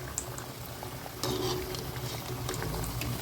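Carrot vadas fry in hot oil with a steady boiling bubble and hiss, a brief clatter as they are turned partway through, close and alone with no talk.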